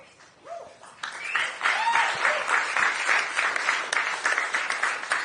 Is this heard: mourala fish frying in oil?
no